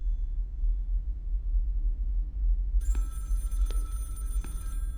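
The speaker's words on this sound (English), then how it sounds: "I hear a phone." A telephone rings in the horror game Project Looking Glass, starting partway through with a couple of faint, metallic trilling bursts over a low rumbling ambient drone, with no one speaking.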